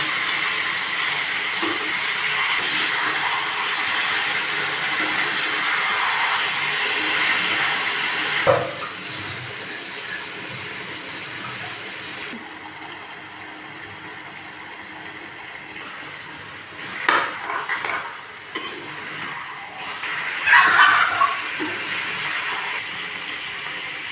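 Chicken is tipped into softened onions frying in oil in a pan, giving a steady, close broadband hiss that drops lower partway through, with a few clatters of stirring near the end.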